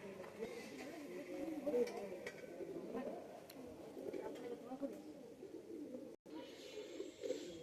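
A pair of Chinese Teddy pigeons coo softly and repeatedly at close range, with a person talking over them throughout.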